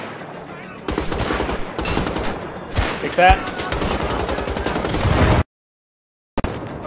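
Rapid bursts of automatic gunfire in the video game Wolfenstein: The Old Blood fill most of the clip, dense and loud, with a voice shouting briefly over the shooting before a sudden cutoff.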